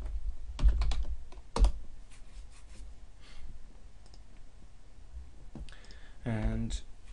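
Scattered clicks of typing on a computer keyboard come through in a few sharp bursts at close range, with a voice briefly heard near the end.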